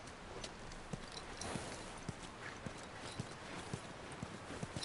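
Horse hooves clip-clop at an even walking pace in the video game The Last of Us, a regular series of light, crisp knocks over a quiet, airy background.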